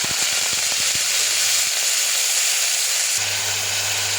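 Onions and green chillies frying in hot oil, a steady loud broadband sizzle and hiss that continues throughout, with a few soft taps early on.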